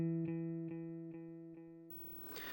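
A guitar sustains a chord through a Joyo R-07 Aquarius delay pedal on its tube echo setting, with soft repeats pulsing at a steady rhythm as the tone slowly fades, then a burst of brighter, noisier playing cuts in.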